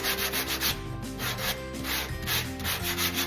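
Body filler on a car panel is sanded by hand with 80-grit paper during small dent repair, producing close, rhythmic back-and-forth scratching strokes in a steady repeating pattern.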